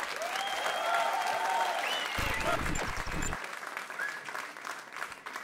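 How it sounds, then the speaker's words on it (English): Audience applause for comedian Joe Riley at a live stand-up show, a steady roar of clapping that swells and holds for several seconds, with a compere's voice calling out over it and a brief low thump midway. "Ladies and gentlemen, give a round of applause for Joe Riley."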